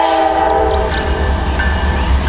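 A Norfolk Southern stack freight train, 20T, rolls past at about 10 mph on a siding, loud and close, its horn sounding over the steady rumble of the cars.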